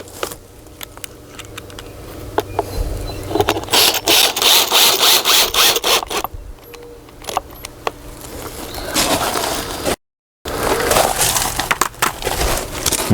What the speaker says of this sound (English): I'm going to put 2 screws in this one.